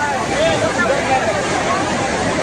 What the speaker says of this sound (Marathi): खूप वेगाने ओव्हरफ्लो होतोय पाण्याचा